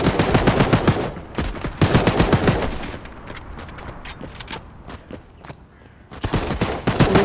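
Bursts of gunfire from a mobile shooter war game, dense rapid volleys at the start and end with a thinner stretch of scattered shots in the middle, loud and continuous with no talking.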